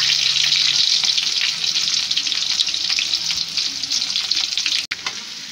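Onion, green chili and curry leaves frying in hot oil in a pan for a carrot and prawn stir-fry, a loud, dense, steady sizzle, close, with faint stirring scrapes and a brief break near the end.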